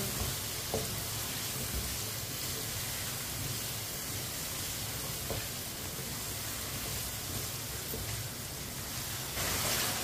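Cut, washed potatoes frying in a pan while being stirred, a dense continuous sizzle with occasional scraping stir sounds throughout.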